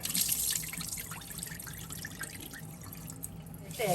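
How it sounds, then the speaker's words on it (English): Cloudy rinse water from washing sticky rice splashes and trickles as it is poured out into a sink, loud at first then thinning to drips. "Then I'm gonna pour this water out."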